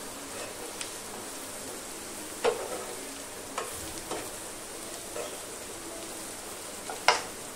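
Dried shrimp and raw mango curry being stirred in a pan, with a soft sizzle under scattered scraping and clinking strokes of the spoon, a few sharper taps standing out.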